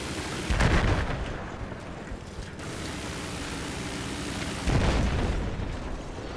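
Battlefield game helicopter firing on ground vehicles, with two heavy booming explosion bursts separated by a steady mechanical rotor drone, no voices.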